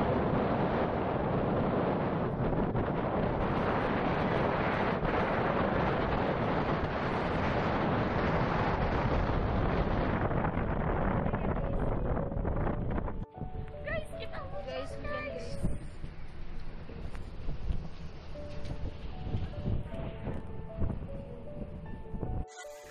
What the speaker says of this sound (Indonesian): Angin di sini terlalu kencang, guys. Jadi suara kita tidak terlalu terdengar dengan jelas.